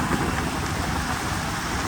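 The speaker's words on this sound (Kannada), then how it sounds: "ಮಳೆ ಗೈಸ್, ಮಳೆ." Steady, heavy rain pours without a break, a dense close hiss that sounds like a downpour on a mountain road near a landslide, with a faint low rumble underneath.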